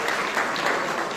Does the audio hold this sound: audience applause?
yes